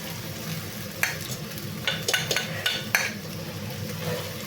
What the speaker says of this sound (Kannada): ತೊಳ್ಕೊಂಡಿರೋ ಅವಲಕ್ಕಿನ ಇದ್ರಾಗ ಹಾಕ್ಬಿಡೋದು ನೋಡಿ.